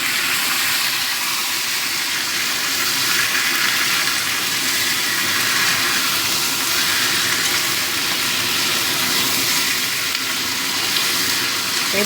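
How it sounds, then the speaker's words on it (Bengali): Marinated mutton hits hot oil in a pan for biryani and sizzles loudly, a steady, hissing fry that holds at an even level throughout. "এবার আমি এই ম্যারিনেট করা মাংসটা দিয়ে দেব।"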